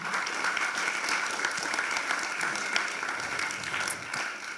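An audience applauds the speaker after a talk on rethinking parking, a dense, sustained round of clapping that holds at a steady level from start to finish.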